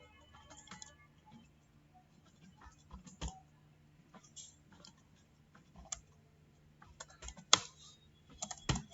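Keystrokes on a computer keyboard while an email address is entered during an Outlook account setup on a PC: scattered, fairly quiet clicks in short bursts over a low steady hum, with a few sharper taps standing out.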